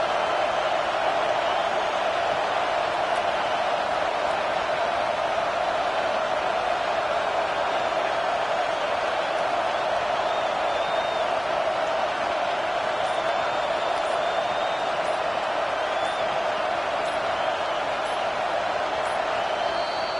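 Dense, steady roar of a large football stadium crowd cheering during a tense fourth down in an Ohio State game, a continuous wash of noise with no breaks.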